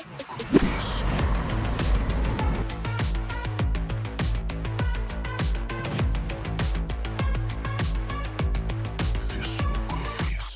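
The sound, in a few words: Maruti Suzuki Nexa Fronx Boosterjet car driving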